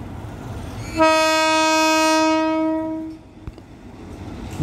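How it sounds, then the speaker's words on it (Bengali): A Mahananda local train sounds one long, loud horn blast lasting about two seconds as it moves off after coupling. A low rumble and a single sharp clunk follow. "কাপলিং শেষে ট্রেনটি এগিয়ে যাচ্ছে"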